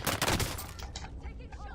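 Gunfire in Call of Duty Warzone, a quick burst of shots at the start that fades into a rattling, echoing tail over under two seconds.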